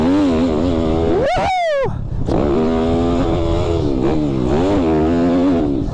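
A YCF Big-Y pit bike engine revs sharply, rising and falling in pitch, then settles into a steady buzzing idle nearby.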